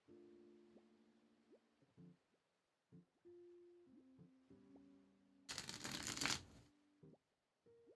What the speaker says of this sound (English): so I'm shuffling this 9 times.